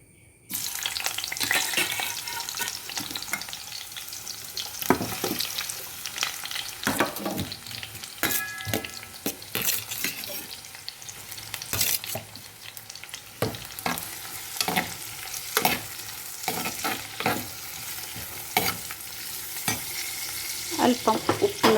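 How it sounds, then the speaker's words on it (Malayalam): Onions sautéing in hot coconut oil in a pan for an Angamaly mango curry, a steady bright sizzle with frequent spoon stirs and scrapes running throughout, close and fairly loud with no talking. "ചട്ടി ചൂടായി, അതിലേക്ക് ഞാൻ വെളിച്ചെണ്ണ ഒഴിച്ചിട്ടുണ്ട്. അതിലേക്ക് നമുക്ക് സവാളയൊക്കെ ഇട്ട് വഴറ്റി കൊടുക്കാം."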